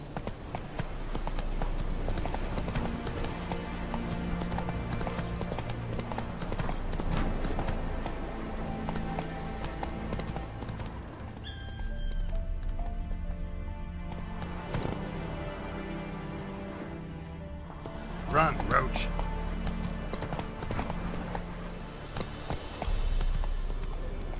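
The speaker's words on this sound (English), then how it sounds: "Whoa there, Roach" Hooves of a galloping horse in The Witcher 3: Wild Hunt pound in a rapid, continuous clip-clop rhythm, briefly easing to a slower pace midway, with game ambience underneath and no speech.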